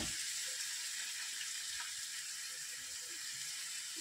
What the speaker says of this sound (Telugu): ఉల్లిపాయ ముక్కలు వేస్తాను చేపల పులుసుకి.